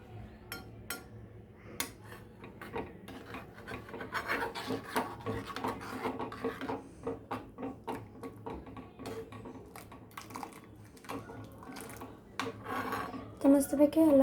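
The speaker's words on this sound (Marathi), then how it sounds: "तो चमच्याने सगळ्या गठुळे असते ना ते फोडायचं आणि मिक्स करायचं." A spoon scrapes and stirs in a pan, breaking up lumps in a thickening mixture, with steady rasping and clinking strokes that run continuously, quiet and close, with no talk.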